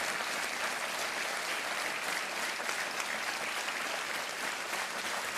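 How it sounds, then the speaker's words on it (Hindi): Sustained applause from a crowd, steady and dense throughout with no pauses, fairly loud and close. "तालियां बजती रहनी चाहिए।"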